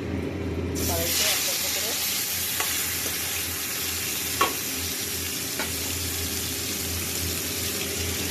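Spices and chopped onion with ginger, garlic, cumin, chilli and coriander powder sizzle loudly in hot oil for mutton kosha, a steady hiss broken by a few sharp clinks of stirring.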